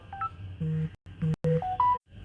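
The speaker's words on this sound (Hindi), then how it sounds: "बीच बीच में कुछ व्यवधान आ जाता है, फोन आ जाते हैं" A series of telephone keypad tones and beeps cut into a Hindi astrology talk, coming in short bursts of varying pitch with brief gaps, moderately loud with no talk over them.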